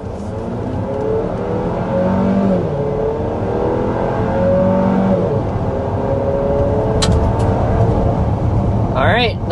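A 2024 GMC Acadia with a 2.5-liter turbo four-cylinder accelerates hard to 60 mph, its engine note rising through the gears and loud from inside the cabin, while a person talks over it.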